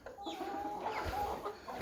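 Silkie chickens and roosters clucking inside a coop, a short stretch of soft, close murmuring clucks with a few brief higher calls.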